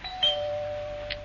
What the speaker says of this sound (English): Eventually, the doorbell rang.